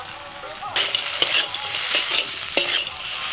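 Close sizzling of greens with crumbled fried lentil dumplings in a hot pan, with scraping stirs and a few sharp clinks of a utensil against the pan, no voices.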